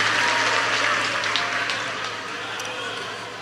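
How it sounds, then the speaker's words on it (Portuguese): A church congregation claps together in a loud, dense burst that slowly tapers off as people take their seats. "os que podem, tomem seu assento aplaudindo a Jesus"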